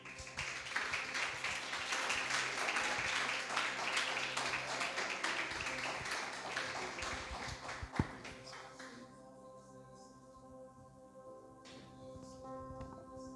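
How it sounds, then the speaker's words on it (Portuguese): A church congregation claps in praise, a steady, rhythmic wash of hands over sustained music. The clapping fades after several seconds, leaving the music and a single sharp knock. "nosso amado pregador da noite, pastor Diogo, e as palmas louvam ao Senhor"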